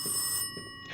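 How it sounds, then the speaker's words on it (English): A telephone rings from downstairs inside the horror game Rise of Insanity, one shrill bell-like burst followed by a short pause and then a second ring starting, heard alone with no talk over it. "it's the phone downstairs"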